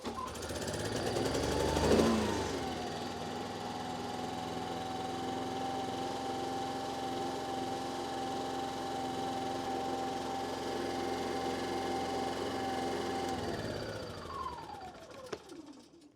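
A Yamaha EF2400iS inverter generator running after its carburettor service, starting with a brief pull then settling into a steady close buzzing hum with a whining tone for about eleven seconds before winding down and stopping.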